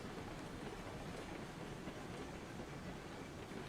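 Steady, continuous rumble and clatter of a train rolling along in the video game RailRoads Online, at an even level throughout with no talking.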